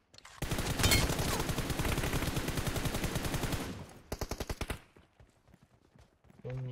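Gunfire in PUBG Mobile: a loud, sustained rapid burst of automatic shots, followed by a shorter second burst, then quiet.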